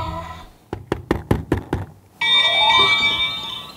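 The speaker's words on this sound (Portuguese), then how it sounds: "Desperte o mix de seu sono profundo batendo no topo da lâmpada." A toy magic lamp is flicked on top six times in a quick, even rhythm of sharp close taps, then a bright electronic chime rings out from it.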